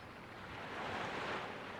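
Sea waves in the video game Slaps & Beans: a steady, soft wash of surf that swells gently midway, with no voices over it.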